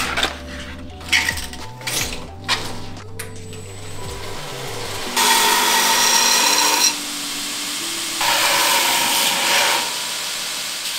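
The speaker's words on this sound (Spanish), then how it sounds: "Ahora lo tenemos que pasar a la lijadora" Clanking metal tool sounds give way to a belt sander's harsh, steady grinding as it shapes a steel knife blade, in two loud passes separated by a brief lull.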